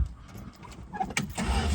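A 1968 Dodge Polara with a 318 V8 cranking and catching, a brief starter whir followed by the engine firing into a steady rumble, heard close with some jingling in the background.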